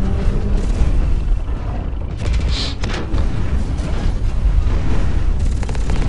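Gunfire from a mech's automated turret in the shooter game Hawken, a dense, continuous roar of rapid shots and booming impacts running through the whole stretch with little letup, no talk over it.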